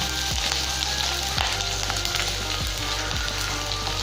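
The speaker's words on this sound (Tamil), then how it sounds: "இப்போ கடுகு நல்லா பொரியுது." Mustard seeds splutter in hot oil while coconut rice is being cooked, making a close, continuous sizzle with dense crackling pops and a few sharper spits, with no talking.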